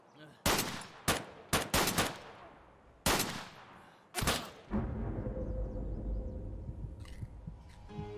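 Gunshots in Escape From Tarkov, a cluster of sharp, loud cracks fired in quick bursts with echoing tails, then a lingering ambient rumble after the last shots; a faint voice sits underneath.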